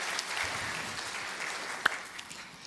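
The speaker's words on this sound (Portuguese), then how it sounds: "Salva de palmas mais uma vez para os nossos ajudantes aqui" Sustained applause from a church congregation for the helpers, an even wash of many hands clapping with one sharper clap near the end, no voices over it.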